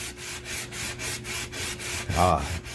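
A copper Optimus water block being lapped by sanding, steady back-and-forth rubbing strokes in an even rhythm, close up, followed by a brief louder scrape near the end.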